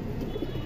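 A pigeon coos softly, a low murmuring call heard close by against steady background hum, with no voices.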